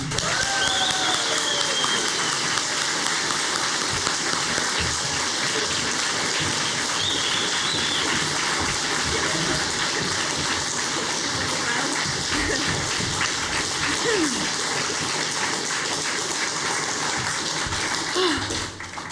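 A conference hall audience applauds and cheers steadily for a speaker's introduction, a dense continuous wash of clapping with scattered whoops that stays loud and close for nearly twenty seconds before tapering at the very end.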